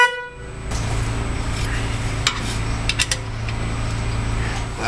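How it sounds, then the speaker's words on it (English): The high-note horn on a 2009 Toyota Camry, which is going bad, sounds with the low-note horn unplugged: a steady, thin honk held for several seconds, with a few short clanks from the engine bay and no talk. "I just unplugged the low note horn, the one that's good, so that I can see how the high note horn sounds"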